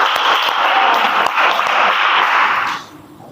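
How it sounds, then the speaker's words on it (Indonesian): Classroom applause for a student presenter during a micro-teaching session, a dense burst of clapping from a group that holds loud and steady, then fades out quickly. "kasih aplaus untuk PP"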